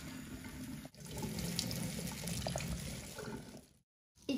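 Tap water runs steadily into a sink over a vinegar-soaked egg being rinsed by hand, a continuous close splashing with a brief pause near the end before the flow resumes.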